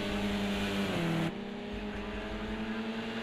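Race cars at Donington Park circuit roar past with a loud, tonal engine whine that drops in pitch as they brake hard, then settles into a lower, steady drone on the run toward the next corner.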